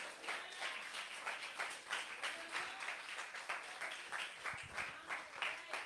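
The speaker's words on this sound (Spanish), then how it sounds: "Dele un aplauso a nuestro Señor Jesucristo." A church congregation applauds during a sermon, a steady wash of many hands clapping at moderate distance, continuous with no voices over it.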